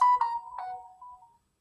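A short electronic phone ringtone plays a few quick melodic notes, then fades out into silence.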